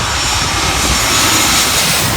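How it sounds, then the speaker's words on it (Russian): Aircraft engine roar from a landing Boeing airliner, loud, steady and continuous, with a broad rumbling drone and no voices. "Самолеты садятся уже каждые 15 минут, но мы надеемся, что мы увидим посадку Боинга."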